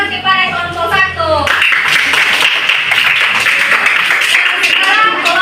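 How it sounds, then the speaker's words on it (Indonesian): A classroom bursts into sustained, dense clapping for a student group after a brief spoken introduction, the applause holding steady and close until the end. "berikan aplaus kepada kelompok 1"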